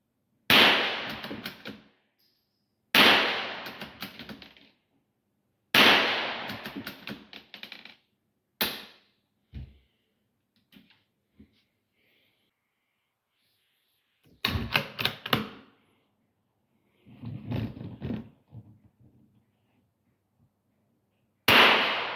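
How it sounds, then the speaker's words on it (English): A .22LR scoped rifle fires about eight sharp cracks, each with a short ringing tail. They come in bursts a few seconds apart, with quiet clicks of reloading between them, outdoors and close. "I'll reload it as fast as I can and shoot as fast as I can."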